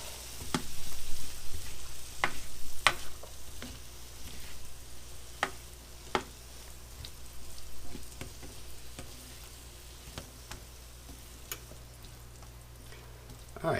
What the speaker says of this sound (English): eggs are ready, and stir my veggies around a bit